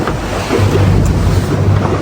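Rough sea waves slosh and slap against a small boat hunting off Greenland, with steady wind buffeting the microphone; the surge is loud and continuous, swelling and easing over two seconds with no talk.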